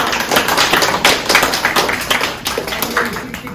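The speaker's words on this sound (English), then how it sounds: "So let's give a big round of applause for Shelly." Applause for a woman at a Parkinson's talk event, dense continuous clapping from a crowd for several seconds with a faint voice mixed in.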